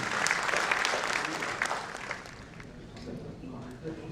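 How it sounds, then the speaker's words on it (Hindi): Audience applause welcoming a poet at a tribute event, a moderate burst of many hands clapping that thins and fades as a voice begins speaking over the last scattered claps. "तो आइए सुभाष काबरा का तालियों से स्वागत करें"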